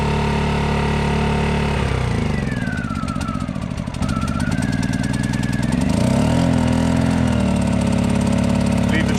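A SIP Medusa Ti-1002 generator's small engine runs loudly up close at its first start, its RPM falling and then rising again as it settles, with a steady droning hum.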